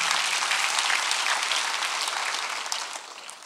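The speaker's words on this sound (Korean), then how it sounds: "박수를 하세요" A church congregation claps during a Sunday worship sermon, dense and loud from the start, then the applause thins and fades toward the end.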